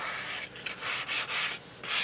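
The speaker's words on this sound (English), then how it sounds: "I just have to sand this wingtip just a little bit." Steady rhythmic rubbing of 240-grit sandpaper on a wooden model aircraft wingtip, back-and-forth strokes with slight pauses, close and fairly quiet.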